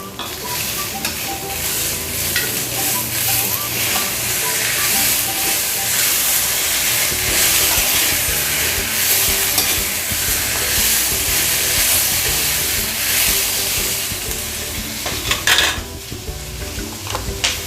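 Large chunks of five tomatoes hit a hot pan and fry with a loud, steady sizzle and hiss for the whole stretch, with occasional spatula scrapes and stirring near the end.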